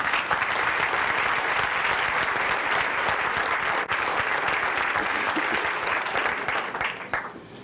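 An audience at a Friends of the Boundary Waters event claps in thanks for an absent longtime member, a full, sustained round of applause at steady volume that tapers off in the final second.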